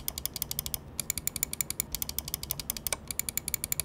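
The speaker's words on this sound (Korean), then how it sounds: "확실히 클릭압도 낮고 클릭 사운드도 막 그렇게까지 크지 않은 걸 느낄 수가 있습니다." Clicky mechanical keyboard switches from a follow-up to a G-series keyboard, typed in a fast, steady run of sharp, close clicks with a short pause near the start and no voices.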